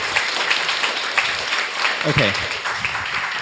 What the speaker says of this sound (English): So maybe please join me in giving a round of applause.